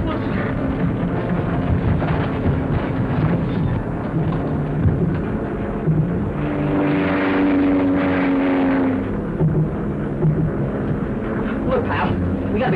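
A propeller airplane engine runs with a loud, steady rumbling drone throughout, swelling slightly midway, mixed with a dense noisy background in an old 1941 film soundtrack.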